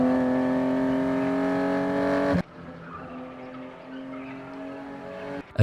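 A car driving, heard raw and unprocessed: a steady tonal engine hum with strong harmonics that cuts off abruptly after about two seconds, followed by a quieter stretch of softer engine noise and a brief loud burst at the end.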